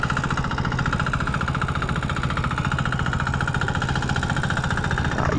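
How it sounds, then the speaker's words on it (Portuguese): A small outboard-powered boat engine runs steadily at sea near a fishing canoe, a continuous mid-pitched droning hum with a fast pulsing rhythm, fairly loud and unbroken throughout, with no talk. "os colegas meus passando ali no botinho, ó, motor"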